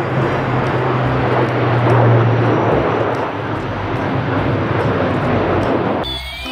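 A toy military airplane gives a continuous propeller-plane drone, humming steadily, loud and close, with a slight rise and fall in pitch; no talking is heard.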